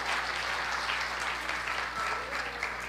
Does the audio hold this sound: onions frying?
no